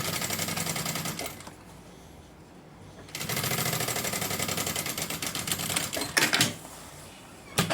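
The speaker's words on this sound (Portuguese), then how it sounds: "costurando até embaixo" A sewing machine stitches fabric down a seam beside a zipper channel, running in fast rhythmic bursts with a pause in the middle, then short stop-start runs near the end.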